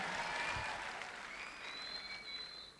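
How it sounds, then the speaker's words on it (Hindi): Audience clapping at a stage training session, a soft steady patter of applause from a crowd that carries on throughout with faint tonal hum in the background. "अच्छा लगा तो ताली यहां जरूर बजाइएगा"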